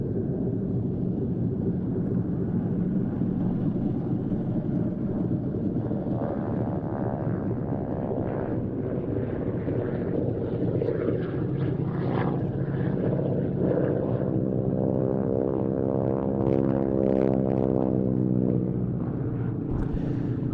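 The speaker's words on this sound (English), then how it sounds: "Known to the US Army Air Forces as the T6 or AT6 Texan" A North American T-6 Texan (Harvard) propeller trainer flies by at an air display, its steady engine drone rising and swelling with a shifting, pulsing tone as it passes fairly close, continuous across the whole stretch.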